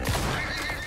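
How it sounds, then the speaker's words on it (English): A horse neighs in the video game Icarus, a single close whinny under steady background game music, with a hint of hoof clip-clop at the start. "Was that a horse?"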